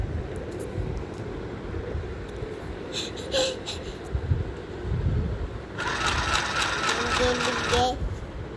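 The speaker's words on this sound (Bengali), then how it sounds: "আস্তে আস্তে করে আমি সেলাই করে নিচ্ছি, পার্ট বাই পার্ট।" A small sewing machine stitching a round dress, its fast whirring needle running in short bursts with a longer steady run near the end over a low background hum.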